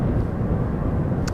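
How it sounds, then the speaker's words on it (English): A Qatar Airways Boeing 777-300ER passes at Amsterdam Schiphol, its jet engines producing a deep, continuous rumble that stays steady and moderately loud throughout. "the Qatar 777-300ER to Doha that we see come this way"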